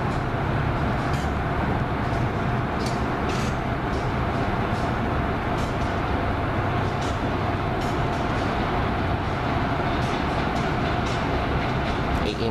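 An inbound Amtrak Regional hauled by an AEM7 electric locomotive rushes past in a dense, continuous roar of wheels and rail noise, loud and steady throughout with faint rhythmic clicks on top.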